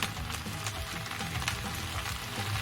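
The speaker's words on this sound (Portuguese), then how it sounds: "E ele vai fritar aqui por volta de uns 5 minutos." Ravioli filling fries in a pan with garlic powder and black pepper, giving a steady, dense sizzle and crackle with faint stirring. It is close and continuous, with no one talking.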